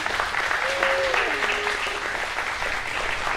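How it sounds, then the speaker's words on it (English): An audience at a live talk event applauds steadily, with dense clapping throughout and a voice speaking briefly over it. "Give another round of applause for Kevin and Miki, you guys."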